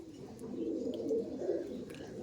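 Kotashi line breed pigeons coo in a steady, continuous low burble, close and moderately loud, with no voices over it.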